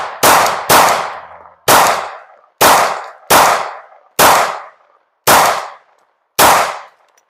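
A Glock 19 pistol fitted with a Leo Precision Oden barrel fires eight loud, sharp shots outdoors at uneven intervals, each crack followed by a short decaying ring.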